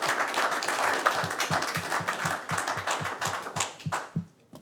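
Applause from the audience at a port commission meeting right after a vote, steady clapping from several people with a few sharper nearby claps, fading out near the end.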